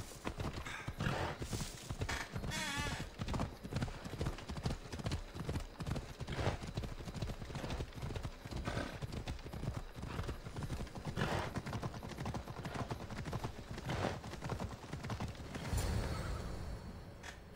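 Horse hooves gallop at a rapid rhythmic clip-clop in Assassin's Creed Odyssey, continuous and fairly close, with a whinny near the start.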